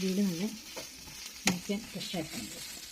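Boiled potatoes being mashed in a pan with turmeric, chilli, pepper and garam masala powders. Soft, close scraping and squishing strokes sound alongside a faint sizzle, with one sharper knock partway through.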